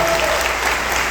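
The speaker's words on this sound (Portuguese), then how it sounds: "Uma salva de palmas para esses meninos que apresentaram aqui" Steady, dense applause from an audience at an evening event honoring boys who performed, filling the whole moment with continuous clapping and no pauses.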